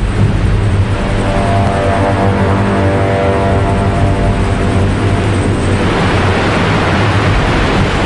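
Steady, loud engine drone with a low rhythmic thrum and broadband rushing noise, continuous throughout, from a rescue helicopter heard nearby.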